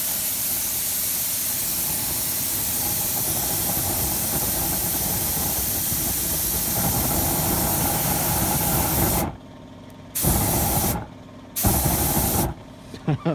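A loud, continuous hiss of compressed air from an air gun sprays for several seconds while cleaning an Audi A4 TDI inlet manifold, then cuts off and bursts again in short blasts.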